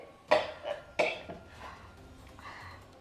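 Two sharp coughs ring out close by, a second apart, followed by quieter rustling and faint background noise.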